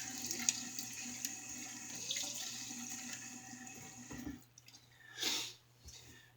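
Tap water runs steadily into a sink while a Gillette Bull Dog safety razor is rinsed, then the flow stops and a short splashing rinse follows, quiet and close.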